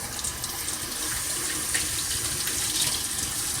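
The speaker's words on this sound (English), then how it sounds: "what I'm going to need to do is wash my hands here." Hands being washed under a running kitchen tap, a steady close rush of water with small splashes as the hands move through the stream.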